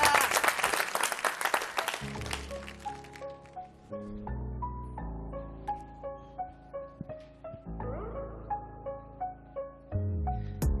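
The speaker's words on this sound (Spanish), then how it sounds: "Un aplauso para él." A studio audience on a TV show claps for a young rapper in a brief burst that fades within two seconds, then a quiet electronic beat with plucked melodic notes takes over.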